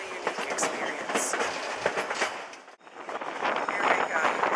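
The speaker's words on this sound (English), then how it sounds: "you can see our train. It has 3 engines pulling us." A long train hauled by three locomotives runs along the rails on an Alaskan rail trip, giving a steady loud rolling rumble with rail clatter and wind, briefly dipping before resuming.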